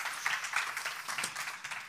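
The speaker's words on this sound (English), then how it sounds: "Let's give him a round of applause" An audience at a live stage talk gives faint applause for an arriving speaker, a thin, even crackle of many hands heard from a distance with a few sharper claps.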